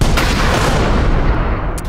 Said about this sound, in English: the TNT essentially incinerates the papier-mâché due to its exothermic properties